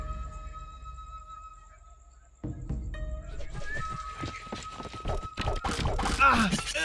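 Cavalry horses galloping in the Shogun Empire video game, a rising clatter of many hooves building into a dense battle din after a quiet start, mixed with game effects.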